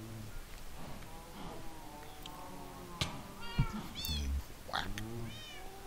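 Cats meowing in a Minecraft-style game, several short meows close together over a steady rain-like background hiss, with a voice quietly talking through it.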